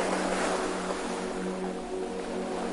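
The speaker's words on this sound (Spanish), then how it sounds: "Escucha cómo se rompen suavemente contra la playa" Ocean waves break gently on a beach in a continuous soft wash of surf, steady and fairly close, with no voices.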